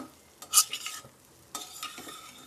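Curry leaves drop into hot oil in a pan for a raw banana stir-fry, giving two short bursts of crackling sizzle with a quieter spatter between them.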